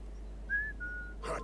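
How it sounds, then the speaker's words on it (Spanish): A character in Assassin's Creed Syndicate whistles to lure a guard: one short, faint rising whistle that trails into a thin, sustained tone over a quiet game ambience. "Vamos a silbarle a este que está aquí"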